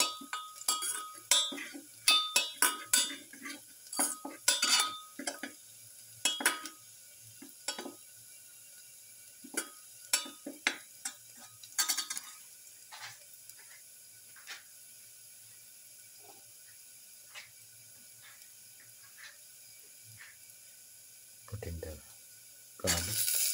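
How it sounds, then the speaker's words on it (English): Garlic sautés in a pan for a black pepper king fish papaya stew, with a soft sizzle under frequent metallic clinks and scrapes of a spoon stirring, busiest early and thinning out later, close and moderately loud. "Keep on sauteing."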